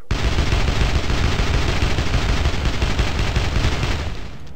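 Rapid automatic gunfire from the video game CastleMinerZ rattles continuously at a loud level for about four seconds before cutting off.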